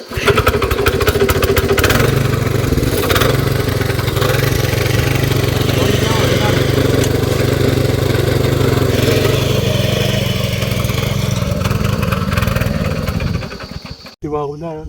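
A tractor engine runs steadily at a farm field, a loud continuous mid-pitched rumble close by that cuts off abruptly near the end, after which a voice speaks.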